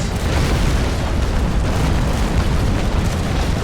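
Ship cannons firing a broadside in the naval combat game Naval Action: a continuous, loud rumbling roar of overlapping booms that fills the whole stretch with no pause or talk.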